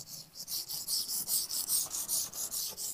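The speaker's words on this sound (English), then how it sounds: "so you probably want to take your scraper" A scraper pries carpet pad staples off a hardwood floor, making a steady train of short, close scraping and rubbing strokes in quick succession, with no voices.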